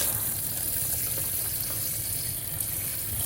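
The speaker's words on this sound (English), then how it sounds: "Rinse them with cold water." Water from a cold tap pours steadily over beets and splashes in a sink, a continuous close hiss with no pauses.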